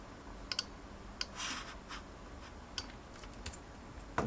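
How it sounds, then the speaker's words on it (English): Keys tapped on a computer keyboard to enter an IP address in a browser: scattered, quiet clicks in short irregular bursts, close but faint. "we are going to type the IP number"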